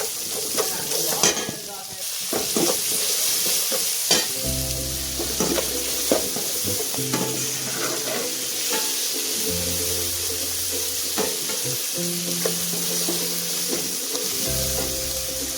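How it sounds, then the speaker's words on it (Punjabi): Green peas and onions sizzle steadily in a hot pan as they roast, with occasional stirring scrapes, close and continuous throughout, and no talking. "ਹੁਣ ਅਸੀਂ ਹਰੇ ਮਟਰਾਂ ਨੂੰ ਥੋੜਾ ਟਾਈਮ ਪਿਆਜ਼ਾਂ ਦੇ ਵਿੱਚ ਹੀ ਭੁੰਨਾਂਗੇ"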